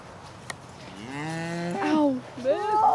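A cow gives a long, drawn-out moo close by, rising and bending in pitch, followed by a second shorter moo.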